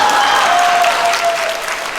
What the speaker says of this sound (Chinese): 这里应该有掌声。